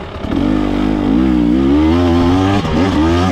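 A 2024 KTM 300 XC-W two-stroke dirt bike climbs a hill in second gear at half throttle, its engine loud and close with a steady, slightly wavering drone that dips briefly near the end.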